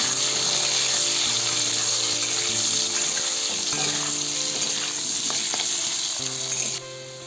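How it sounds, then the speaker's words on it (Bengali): Potatoes frying in oil seasoned with salt and turmeric, a loud steady sizzle with some stirring and a faint splash of water near the end, no talk. "পরিমাণ মতো নুন দিলাম পরিমাণ মতো হলুদ দিলাম আমরা ভালো করে ফ্রাই করে নেব"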